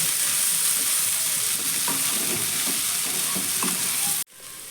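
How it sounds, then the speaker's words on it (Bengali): Spiced cauliflower fries in a pan over a raised gas flame, a steady loud sizzle broken by soft scraping stirs, before the sound cuts off abruptly near the end. "এবার ফুলকপিটাকে একটু উল্টে পাল্টে ভেজে নেব লালচে করে"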